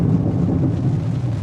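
Thunder rumbles low and loud through a rainstorm at an outdoor Cars & Coffee car meet, heard from inside a Miata as a continuous heavy roll with no voices.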